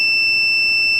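A multimeter continuity-test beep: a continuous high-pitched electronic tone holds steady at constant loudness for about a second, alone and close.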